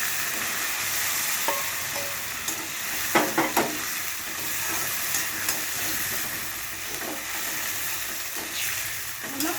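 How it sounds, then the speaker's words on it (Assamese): Chicken pieces coated in yogurt fry steadily in a pan, giving a constant sizzle broken by occasional scrapes and clinks of a stirring spoon, heard close with no talking. "অলপ ভাজি থাকিব লাগিব"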